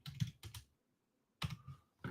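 Quick bursts of computer keyboard typing, a few clustered key clicks, a pause, then more keystrokes, close and quiet with no talk.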